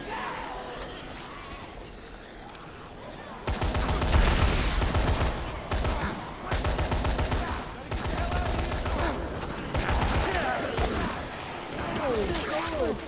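Bursts of rapid gunfire in the zombie video game Dead Rising 3, loud and dense, starting after a quieter stretch and repeating in volleys with brief gaps, over game noise and a crowd-like background.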